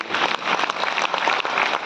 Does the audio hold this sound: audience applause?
yes